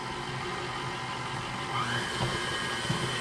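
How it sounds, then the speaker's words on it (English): Electric mixer whirring at medium speed through boxed cake batter, a steady close buzzing drone that grows slightly louder and rougher partway through, with no talking. "Put your mixer on about medium speed."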